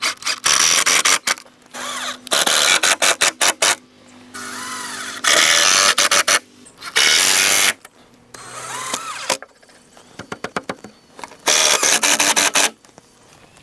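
A cordless power drill drives screws into a wooden pallet raised bed in repeated loud bursts of whirring, each a second or two long, separated by short pauses and clicks, very close.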